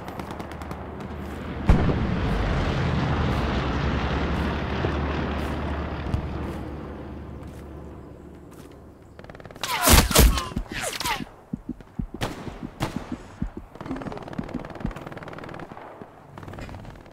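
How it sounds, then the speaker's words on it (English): Aircraft strafing run in the World War II shooter Hell Let Loose at Sainte-Mère-Église: sustained heavy gunfire and rumbling for several seconds, then a sharp loud burst of cannon fire mid-clip followed by scattered distant shots. "Oh yeah, strafing run."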